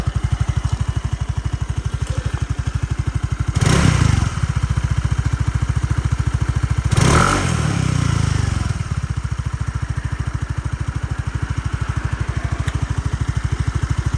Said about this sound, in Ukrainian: басистий такий приємний звук двигунчика.